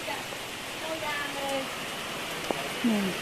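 Rain falls outdoors in a steady soft hiss, with faint voices and a few brief tonal sounds over it and a sharp tap near the end.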